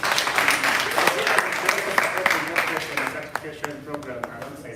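An audience at a campaign launch applauds; scattered sharp claps ring out over a steady crowd wash, thinning toward the end, with talk underneath.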